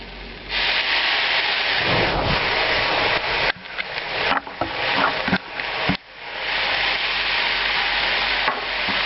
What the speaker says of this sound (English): I'm going to flambe these with an ounce of cognac